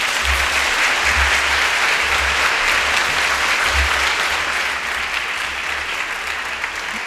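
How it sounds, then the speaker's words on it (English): A college leadership award audience claps warmly for a guest speaker, loud sustained applause filling the hall from start to finish, slowly easing slightly toward the end with no voices on top. "I think you can hear by the warmth of that applause"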